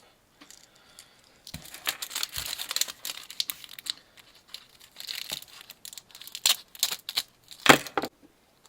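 Packaging for a JE Tech Apple Watch screen protector is torn open and unwrapped, with bursts of crinkling plastic and paper rustles, close and intermittent, with a few brief pauses and a sharper crackle near the end.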